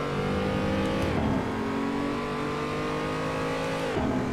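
A race car engine on a timed lap of the Nürburgring Nordschleife in Assetto Corsa, droning steadily at high revs with two quick dips and recoveries as gears change, loud and up close.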